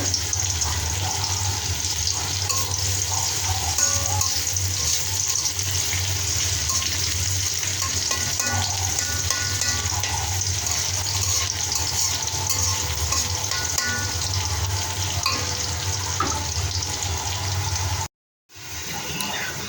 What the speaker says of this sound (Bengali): শাকে তেল পড়ার জন্য রসুনগুলো ভেজে নেব